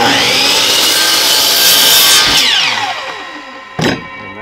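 A miter saw cuts through wood for a solar kiln build. The blade makes a loud, close whining rasp through the cut, then winds down, followed by a brief clunk.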